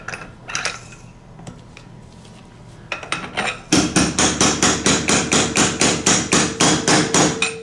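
Scattered metallic clinks, then a steady run of sharp hammer blows driving motorcycle fork bushings into place, about two per second, loud and close with no talk.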